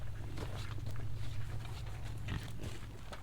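Pigs grunting on a farm during preparations for a winter storm, a steady low rumble of snorts and grunts that continues without a break, close by and fairly loud.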